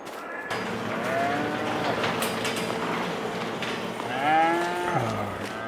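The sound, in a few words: cattle mooing in video game Farming Simulator 22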